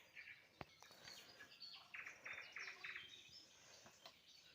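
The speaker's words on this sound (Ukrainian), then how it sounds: "Так гарно, пташки щебечуть." Small birds chirp and twitter around a farmyard at sunrise, a steady chorus of short high calls at moderate distance over quiet rural background, with a sharp knock early on.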